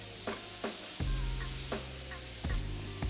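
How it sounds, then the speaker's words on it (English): Tandoori king prawns sizzle on a hot skillet with a steady close frying hiss, and a few soft stirring knocks sound at intervals. "when we add these prawns on here, we should get a beautiful sizzle effect."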